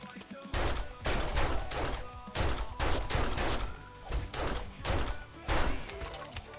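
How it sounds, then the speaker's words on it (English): Repeated bursts of gunfire in the survival game 7 Days to Die, loud and close, with shots coming in clustered volleys over a low rumble and no speech. "I'm just gonna shoot him."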